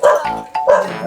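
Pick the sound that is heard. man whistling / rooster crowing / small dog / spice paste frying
small dog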